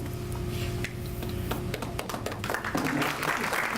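Audience applause at a Springfield police memorial and awards ceremony, scattered claps that grow into fuller, denser clapping toward the end, moderately loud in a large room.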